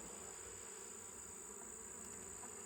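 Honeybees buzzing around an open nuc hive late in the season, a continuous faint high-pitched swarm drone that stays even throughout with no voices.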